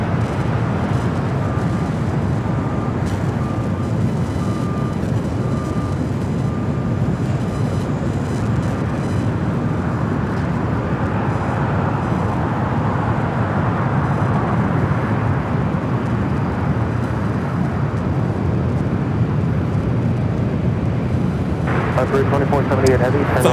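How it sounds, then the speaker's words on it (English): A 17-year-old Boeing 767-300ER jet touching down on runway 25 left at Los Angeles International Airport gives a broad, steady rumbling roar with a faint engine whine early on, loud and continuous, no voices. "17-year-old 767 at 300 ER, flight 2478, touching down here on the south side at 25 left."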